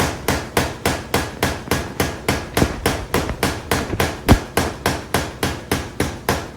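Hot metal leaf elements are hammer-forged in a steady run of about twenty sharp, ringing blows, evenly spaced, close and loud with no talking.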